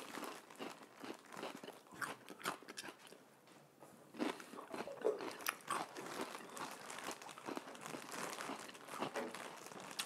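Crisp, repeated crunching bites of fresh celery, loud and close, with rapid crackling chews continuing through the whole stretch and no talking.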